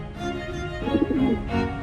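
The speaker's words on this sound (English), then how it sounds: "The bird." A bird in a video game gives a short, soft cooing call over steady layered game background sound, with no speech.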